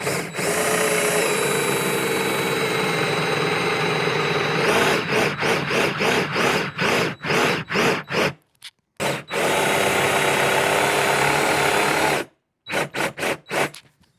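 A drill with a 28 mm Forstner bit bores half-inch-deep pilot holes in a wooden workbench base, first in a long loud steady run, then in a string of short stop-start bursts.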